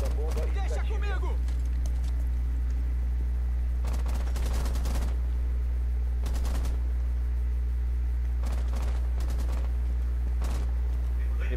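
Gunfire in Rainbow Six: several bursts of close, rapid shots separated by pauses, over a constant loud low hum, with voices talking in between.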